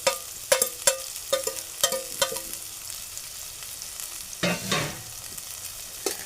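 Green chillies and onion dropped into hot oil for tempering sizzle steadily while a spatula clatters sharply against the pan in quick clustered knocks, then a louder scraping stir near the end.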